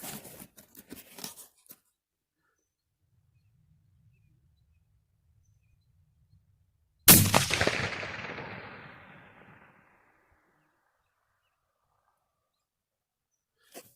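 A single rifle shot, 6.5 or .308 with ELD-M bullets, fired in open country: one sharp loud crack that rolls off into a long fading echo, with quiet rustling before it.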